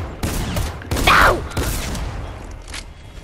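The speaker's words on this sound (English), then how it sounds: "keep on using the rocket launcher." Rocket launcher fire in the video game Fortnite: a few loud, broadband blasts in quick succession, each with a short whooshing tail, over a busy game soundscape.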